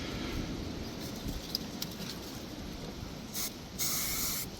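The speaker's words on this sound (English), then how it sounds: "just spraying it on here just like we do spray paint" Hairspray sprayed from an aerosol can onto the painted plastic body of an SCX24 Toyota 4Runner scale model car for a rusty patina finish, a few short hissing bursts over steady outdoor wind noise.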